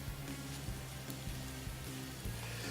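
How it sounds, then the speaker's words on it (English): A cheese omelet in a frying pan back on the heat gives a steady, dense sizzle throughout, even and continuous with faint crackles, close to the pan and without any talking. "I've just put it back on the heat to give it a little bit more of a sizzle."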